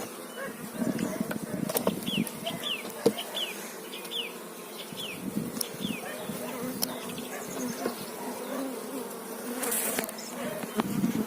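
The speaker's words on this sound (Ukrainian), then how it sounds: "Трохи бджоли агресивні." A dense, steady buzz of many honey bees swarming close by at a hive in spring, somewhat aggressive, with short higher whines as individual bees dart past and a voice murmuring faintly at times.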